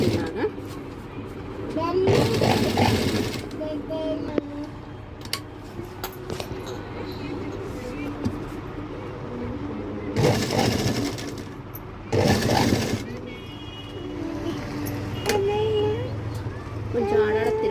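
A sewing machine stitches fabric in a few short bursts, heard over steady background noise and scattered clatter, with people talking at times.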